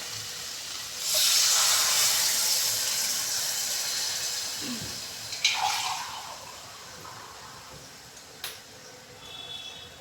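Water poured into a hot pan of spicy dried fish (shutki) curry with jackfruit seeds sets off a loud, steady sizzling hiss that swells suddenly and slowly fades, with a few faint clinks along the way.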